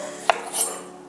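A utensil clinks against a bowl while strawberries and sugar are stirred, one sharp tap followed by a soft scrape, brief and quiet.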